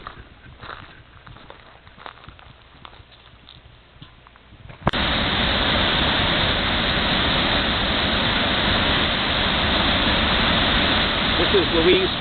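Louise Falls on the Hay River roars as a loud, constant wash of rushing water, taking over abruptly after a few seconds of quieter outdoor sound with faint voices.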